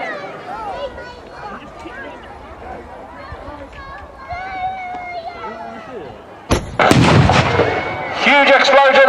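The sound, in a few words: T-55 tank 100mm gun firing with huge explosion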